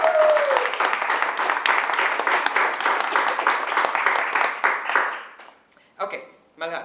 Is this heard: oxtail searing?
no